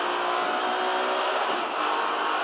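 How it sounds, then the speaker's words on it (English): A BMW race car engine screams at high revs, bouncing off the rev limiter during a championship race at Donington Park, a dense continuous roar close by. "That's why I keep hitting the limiter."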